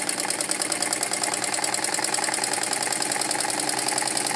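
A sewing machine stitches salwar fabric with a rapid, even mechanical chatter that runs at a steady, loud pace without pause and with no voices over it.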